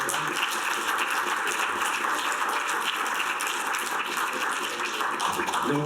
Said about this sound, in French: Je pense qu'on peut les applaudir parce qu'ils ont vraiment fait un sacré travail.